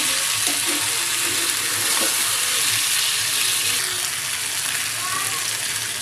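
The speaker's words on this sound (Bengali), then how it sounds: "আর এই মশলাটার সাথে কিন্তু মাছটা আমি সময় ধরে কষিয়ে নেব।" Hilsa fish sautéing in a spice mix in a pan gives a steady, loud, broadband sizzle that holds evenly throughout, close up, with faint soft voices underneath.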